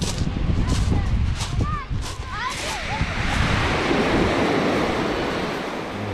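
Sea waves wash onto the beach beside the Yalta embankment, a steady broad surf wash with wind noise. Voices and chatter carry over the first few seconds, and the waves rise fuller and louder toward the end.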